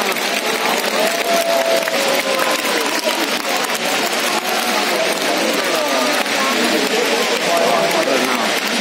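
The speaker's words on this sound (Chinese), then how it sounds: "正式开始欢呼！" Crowd at the start of the Pyongyang marathon, with steady dense cheering and clapping from a large gathering, continuous and loud throughout, with voices mixed in.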